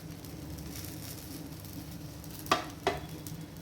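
Food sizzles quietly and steadily while frying in a pan, a soft continuous crackle with two brief sharper clicks near the end, no talking.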